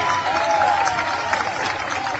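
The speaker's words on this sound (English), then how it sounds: "The crowd is cheering." A baseball crowd cheers and applauds a home run, a dense, sustained wash of clapping and voices at steady volume throughout, with a faint tone sliding briefly over the noise early on.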